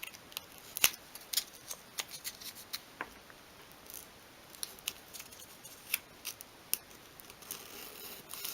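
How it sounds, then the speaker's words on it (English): Sandpaper rubbed carefully along a groove in a small 1/12 scale miniature vegetable storage unit, giving faint, close, intermittent scratchy strokes and ticks with no speech. "carefully carefully sand along the groove"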